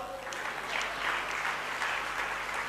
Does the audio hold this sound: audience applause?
yes